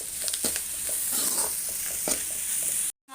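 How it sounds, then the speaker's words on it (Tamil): Curry leaves and coriander fry in hot oil in a pan for a fish curry, giving a bright continuous sizzle with several sharp stirring scrapes and crackles, close and loud, ending in sudden silence. "இப்போ கருவேப்பிலை, கொத்தமல்லி போட்டுக்கிறேன். இது நல்லா வதங்கணும்."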